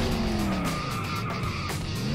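A car in the racing video game Clutch skids with squealing tires over a loud, rising engine drone, continuous and close.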